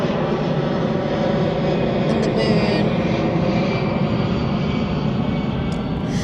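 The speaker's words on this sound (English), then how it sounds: "There's the plane" A fixed-wing airplane passes overhead at sunset, a steady, loud engine roar that fills the clip without fading, with a person speaking briefly over it.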